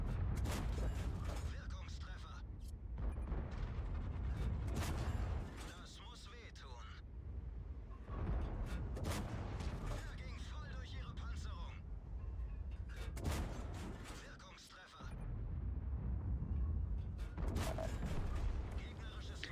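A Jagdtiger tank destroyer with its 8.8 cm gun fires repeatedly in World of Tanks, the loud booming shots landing every few seconds over a constant rumble of engine and battle noise.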